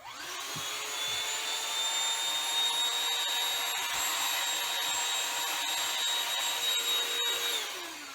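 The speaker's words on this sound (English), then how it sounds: "get a little vacuum so I can sweep up that sawdust" A small handheld Shark vacuum whirs steadily at a high pitch for several seconds inside a camper, close and constant, then winds down at the end.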